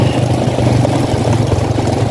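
A motorcycle with an unusual custom setup idles at Talavera public market, giving a loud, continuous low rumble with a steady, even throb and no talk.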